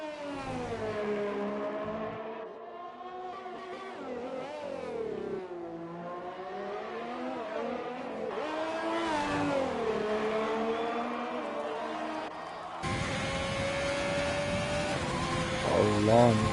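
A race car engine in a racing game whines and revs up and down through gear changes on track, with the steady drone carrying under a commentator's voice.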